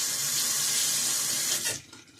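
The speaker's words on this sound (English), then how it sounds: "the instructions say add a little bit of water to it" Water runs from a faucet into a small yellow pineapple-shaped fruit fly trap, a steady close hiss of flowing water that cuts off near the end.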